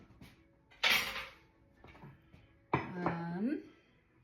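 Metal clinks and clatters as a stand mixer's paddle attachment is swapped out after creaming butter, a few separate knocks and scrapes, close and fairly quiet, with a short metallic ring near the end.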